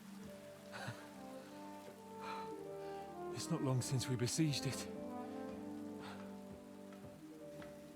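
Rain falls in the video game Kingdom Come 2 as a soft, steady patter beneath sustained musical tones, while a character speaks over it.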